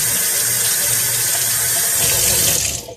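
Steady tap water pours and splashes continuously over a peeled onion, loud and close, easing off right at the end.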